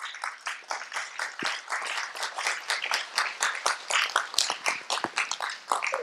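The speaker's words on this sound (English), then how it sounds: "give a big applause to you all" A small audience at a community service event claps, individual hand claps distinct and uneven, swelling into a patchy round of applause that stays fairly quiet.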